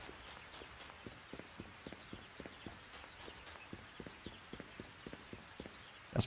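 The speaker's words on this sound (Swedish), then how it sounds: "de har tagit bort musiken för att man ska höra regnet ännu bättre" Rain falling in the video game Rune Factory Frontier, with no music: a soft, steady patter under a regular series of clopping footsteps.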